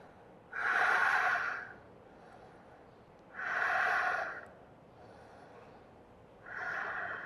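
Three slow, deep breaths while holding a yoga pose, each a loud, close, airy rush through the nose lasting about a second, with quiet pauses between.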